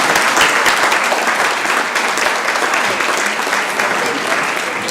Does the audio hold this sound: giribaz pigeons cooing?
no